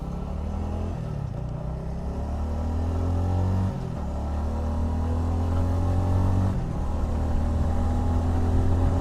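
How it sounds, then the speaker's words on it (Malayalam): A Bajaj Avenger 220 Cruise motorcycle is ridden, its engine droning steadily and close with a few gear-change dips and rising revs, while wind noise runs underneath. "ഞാൻ ഈ വണ്ടി എടുത്തേട്ടോ ഒന്ന് എടുത്തൊന്ന് ഓടിച്ചു നോക്കാം"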